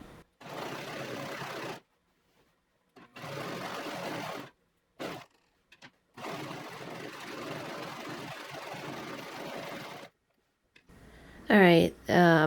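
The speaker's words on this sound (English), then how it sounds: "All right, I've serged everything." Serger overlocking seams on a cotton pencil dress in black thread, running in several bursts of steady whirring separated by pauses, with a brief different mechanical sound near the end.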